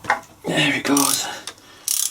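Ratchet socket wrench clicking as it turns a bolt on a Land Rover Defender TD5 R380 gearbox, a few short close bursts of ratcheting pawl clatter with brief pauses between.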